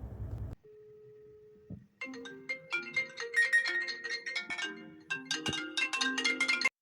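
An iPhone-style ringtone plays from a Samsung phone, a bright repeating marimba-like melody of short plucked notes, loud and close, following a brief low hum and a steady tone at the start.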